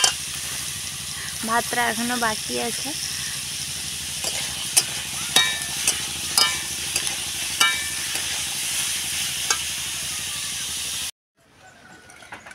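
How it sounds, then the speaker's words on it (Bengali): Kohlrabi fries in a pan on a home stove: a steady sizzle runs throughout, with scattered clicks and scrapes from stirring. Someone speaks briefly over it near the start, and the sound cuts off abruptly near the end. "এখন এই যে কপি ভাজা বসিয়ে দিয়েছি,"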